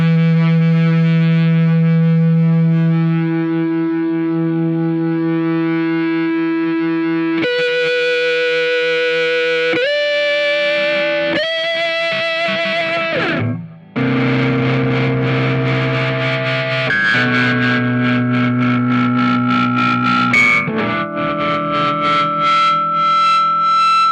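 A 2018 Gibson ES-235 semi-hollow electric guitar played through high-gain distortion sustains loud held notes that bloom into singing feedback, shifting pitch in stepped jumps with a brief dropout midway.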